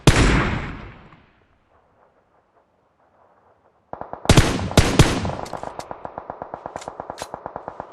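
Video game gunfire during a squad battle royale match: a loud burst of shots, a quiet gap, then heavy, rapid automatic fire with sharp echoing cracks over a steady rhythmic rattle.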